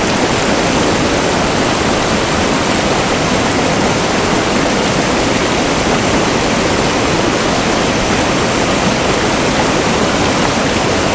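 A Patagonian river flows in a steady, loud, dense rush of water that fills the whole clip without pause, with no voices over it.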